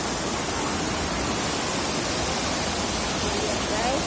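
A waterfall in Malang, at Banjahi, gives off a steady, dense roar of rushing water, loud and unbroken throughout.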